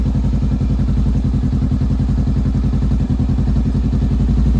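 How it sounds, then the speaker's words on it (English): A Honda Rebel 500 motorcycle with a weak battery runs roughly, a loud, steady, close engine chug with rhythmic low pulses throughout and no talk. "So I'm gonna try to start the bike again."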